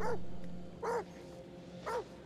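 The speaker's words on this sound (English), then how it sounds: "got Baxter the dog over here" A dog barks in the horror video game The Devil in Me, three short yelps spaced about a second apart over a low steady background hum.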